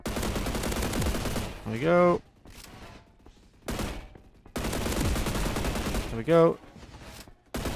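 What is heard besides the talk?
AK rifle gunfire in the Roblox game Energy Assault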